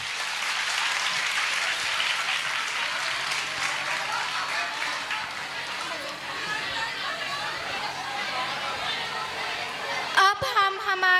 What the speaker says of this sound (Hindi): हमारे पहले डांस ग्रुप के लिए जोरदार तालियां प्लीज।